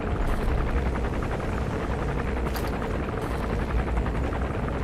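Helicopter in the video game Metal Gear Solid V: Phantom Pain, a loud, close rotor drone with a continuous thrumming chop that stays steady throughout, with no other sounds over it.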